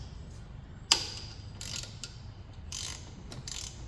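Ratchet wrench with a 14 mm socket loosening an alternator bolt on a 2002 Jeep Grand Cherokee Overland 4.7 H.O., heard as a sharp click and a few faint ratcheting bursts over low engine-bay hum.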